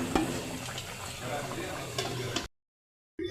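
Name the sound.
stirring chicken and taro curry in a pot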